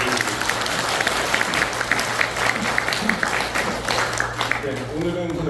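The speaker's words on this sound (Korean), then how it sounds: "모든 분들께 우리 감사의 박수 한번 드리겠습니다" Church congregation at an early-morning prayer service applauding in thanks, a steady dense wash of many hands clapping with a low hum underneath and some faint voices mixed in.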